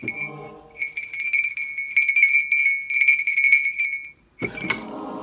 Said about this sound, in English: Do not ask for whom the bell tolls.